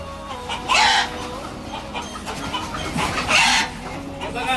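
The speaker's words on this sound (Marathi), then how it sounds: "चला आता आपण कोंबडा पकडू." A village rooster clucks close by in a few loud bursts over a noisy outdoor background, with people talking in the background.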